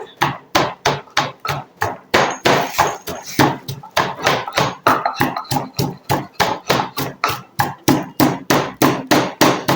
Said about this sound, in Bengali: এটা সাধারণত কাঠের খল এবং লুটতে তো এটা ঢেলে দিলাম এবার আমাদের যে কাজ আমরা একদম সুন্দর করে এবার এটাকে থেতো করতে হবে এভাবে